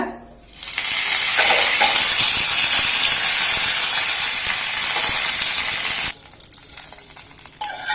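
Curry leaves hit hot tempering oil for coconut chutney with a loud, sharp sizzle that bursts in suddenly, hisses steadily for about five seconds, then cuts off, leaving faint crackles.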